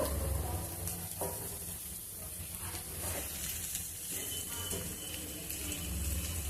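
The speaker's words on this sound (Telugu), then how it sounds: "ఫ్రై కావాలనుకుంటేనే ఇట్లా నిదానంగా ఇంకా మీరు ఫ్రై చేసుకోవచ్చు" Ridge gourd masala curry fries slowly in a pan, giving a steady, continuous hiss and sizzle with faint stirring scrapes throughout and no voices.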